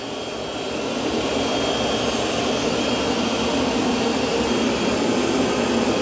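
A Roborock S8 robot vacuum runs over carpet with a loud, steady whirring drone that holds evenly throughout, with no talking.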